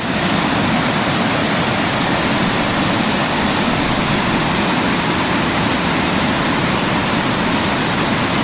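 A small waterfall in Sri Lanka, passed on the way to Boburuella Falls, sends out a loud, steady, close rush of falling water that runs unbroken from start to finish with no voices.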